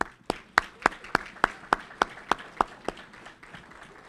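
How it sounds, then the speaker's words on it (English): Slow, evenly spaced claps ring out at a youth football awards night, about a dozen sharp, distinct hand claps at a steady beat over a faint background murmur of applause. "Give yourselves a round of applause."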